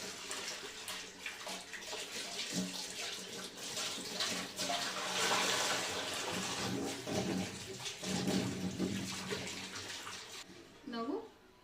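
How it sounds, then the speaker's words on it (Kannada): Carrots washed under running water at a kitchen tap, a steady close splashing stream that rises and falls as the vegetables are rinsed, with a voice speaking over it. "2-3 ಸಲ ವಾಶ್ ಮಾಡ್ಕೊಳ್ಳಿ ಕ್ಯಾರೆಟ್ನ."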